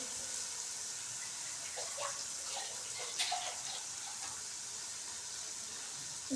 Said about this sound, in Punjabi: ਪਹਿਲਾਂ ਆਪਾਂ ਇਹਦੇ ਵਿੱਚ ਪਾਣੀ ਪਾਵਾਂਗੇ